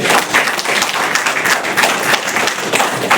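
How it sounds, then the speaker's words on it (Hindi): A crowd at a certificate distribution for special children gives a guest a hearty round of applause, dense clapping from many hands, loud and continuous for a few seconds. "मैं चाहूँगा कि सर के लिए एक जोरदार तालियाँ हो जाए पहले।"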